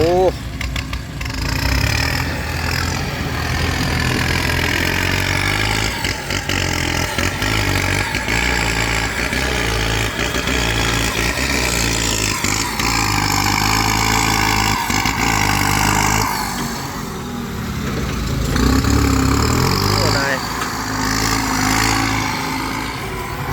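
Dump truck engine idling and then revving up in repeated surges, loud and close, while people talk over it.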